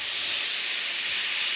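Water poured into a hot frying pan after cooking meat, making a loud, steady steam hiss that continues unbroken and close by.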